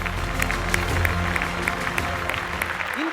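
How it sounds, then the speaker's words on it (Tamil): An audience claps steadily to welcome actor Pandiarajan on a show, a dense wash of applause with a low hum underneath, continuing throughout. "உங்கள் கரகோஷத்துடன் let's welcome Thiru R Pandiarajan."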